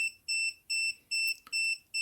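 A PeakTech P 5175 sound level meter beeping, a steady series of five sharp, high electronic tones in an even rhythm, close and clear with nothing else around.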